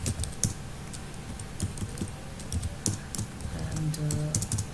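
Keys clack in irregular bursts as code is typed on a computer keyboard for a servlet filter configuration demo, close and moderately loud, with a faint low hum underneath and no speech.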